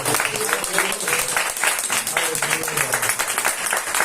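A church congregation claps and applauds steadily for several seconds, a dense irregular patter of many hands in a reverberant hall, with voices calling out underneath.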